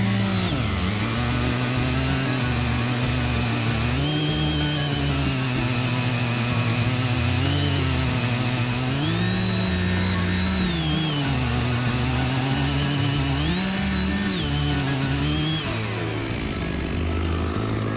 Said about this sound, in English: As you can see, the wood is so hard, it's hard for the chainsaw to get started right.